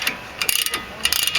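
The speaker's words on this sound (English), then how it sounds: "take off these two 19 mm bolts here" Ratchet loosening the 19 mm brake caliper bracket bolts on a 2004 Nissan Murano front brake, a series of close, quick metallic clicks in short bursts, loud and alone.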